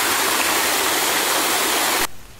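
The Coban Kemiri waterfall in Jabung, Malang, roars as a loud, continuous rush of falling water, close and steady, then cuts off abruptly near the end.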